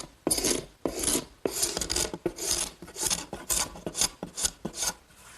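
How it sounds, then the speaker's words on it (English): A scraper takes repeated rough strokes across wood, removing hardened glue, about a dozen rasping passes in a steady rhythm, close and fairly loud with no talking. "now's the time to scrape off that hardened glue"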